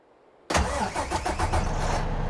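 A truck engine in American Truck Simulator cranks and fires at once after a brief silence, then settles into a loud, steady, low rumbling idle with a pulsing beat.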